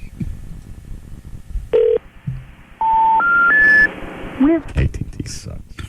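Touch-tone telephone keypad beeps, several distinct tones in succession, followed by brief electronic phone-line sounds, with someone talking before and around them.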